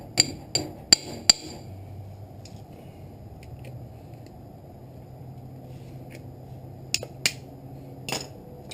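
Small hammer striking and breaking an old rail buggy part: four sharp, close metallic blows in quick succession, then a quiet stretch and three more scattered hits.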